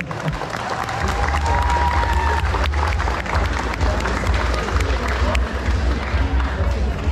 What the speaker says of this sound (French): Donc on peut les applaudir bien fort hein, parce qu'ils l'ont mérité, voilà.